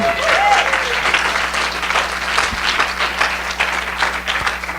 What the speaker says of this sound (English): I want everyone to give a round of applause to them.